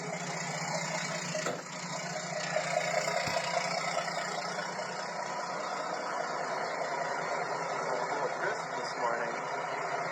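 A truck engine idles steadily while warming up on a cold morning before hauling a gooseneck trailer, a constant low rumble running the whole time with a person talking briefly over it.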